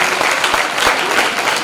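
Loud, dense applause from an audience at a school parents' association event, a continuous wash of clapping throughout the short stretch.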